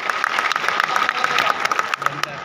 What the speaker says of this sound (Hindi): एक बार जोरदार ताली हो जाएगा